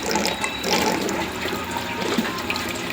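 Water beginning to flow from a submersible aquarium pump, a steady close rushing and splashing with gurgling bubbles that stays constant and fairly loud, with no voices over it.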